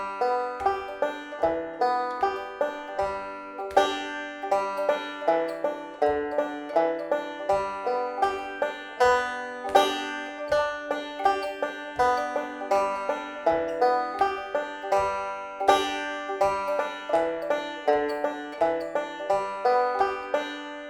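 A five-string banjo plays a tune with added forward rolls, a steady stream of bright picked notes in an even rhythm, close and clear with no talking.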